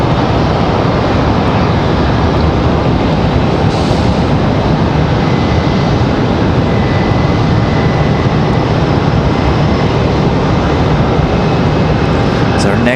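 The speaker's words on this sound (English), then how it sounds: "Got an exec jet departing over there behind us." Executive jet departing an airport runway, a steady broad engine roar sustained and fairly loud throughout, with people talking over it.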